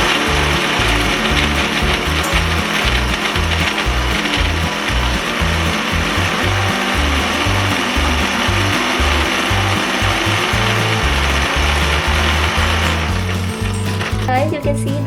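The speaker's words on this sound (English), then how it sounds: "We are taking our cookies and now it's time to grind them." A kitchen grinder pulverises chocolate cookies-and-cream cookies for a chocolate roll mithai, giving a loud, steady, close-up whirring roar that runs the whole time with a brief shift in tone near the end.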